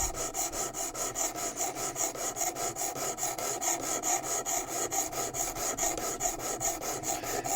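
A knife edge is drawn back and forth across a sharpening stone on a WorkSharp Precision Adjust, producing a steady, rhythmic rasping scrape repeated in quick, even strokes, close and alone with no voices.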